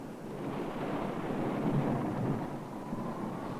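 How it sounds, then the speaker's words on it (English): A fierce thunderstorm at sea rumbles as a steady, dense roar of rain and wind, a continuous low wash with no distinct claps standing out. "But there was no denying fierce storms."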